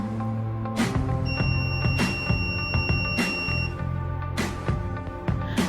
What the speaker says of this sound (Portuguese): quando ligado, se detecta algo, o buzzer apita até que alguém o desliga